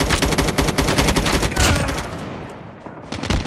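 Dense, loud Call of Duty gunfire rattles continuously in close rapid bursts, briefly thinning out before another volley, with no talking over it.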